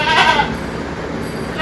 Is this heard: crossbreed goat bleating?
yes